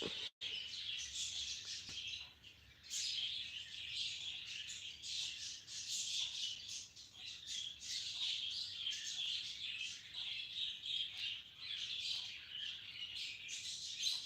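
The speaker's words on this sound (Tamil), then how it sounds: "குருவி சவுண்டு தான் எனக்கு கேட்குது" Small birds, sparrows, chirp continuously at a fair distance in Tenkasi during rain, a dense steady twittering heard on its own without talk.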